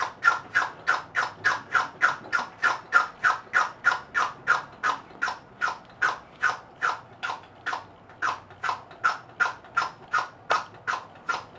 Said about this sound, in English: now we're going to pump all the air out of it